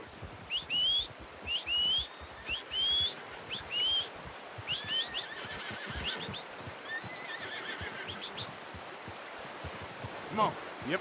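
A horse in the video game Red Dead Redemption 2 whinnies several times in short bursts near the start, followed by steady outdoor ambience with flowing water and a few faint bird calls.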